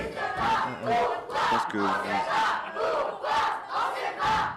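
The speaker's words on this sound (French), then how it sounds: "Oh là là, la foule." A large crowd at a world Tamenti championship semi-final chants and shouts in loud, rhythmic rising bursts, roughly one per half second, with a few spoken words briefly heard among them.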